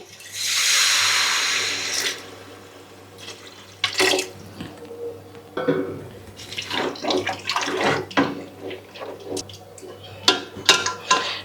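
Water pours in a short steady stream for about two seconds into a pan of gongura and raw prawn curry with coriander and cumin powder, followed by clinks, scrapes and sizzling sounds of stirring.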